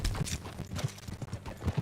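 Horse hooves clip-clop at a steady riding gait in Red Dead Redemption 2, close and fairly loud, a rhythmic run of hoof strikes with no talk.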